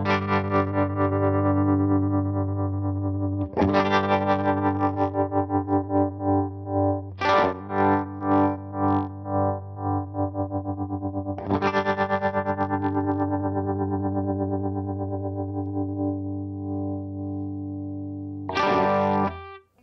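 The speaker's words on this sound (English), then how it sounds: "I'll start with the tremolo, show you what that sounds like." Electric guitar chords through a Universal Audio UAFX Ruby '63 top-boost amp pedal with tremolo on, the sustained strums pulsing in a steady rhythmic volume wobble, loud and alone, with a few fresh strums restarting the chop.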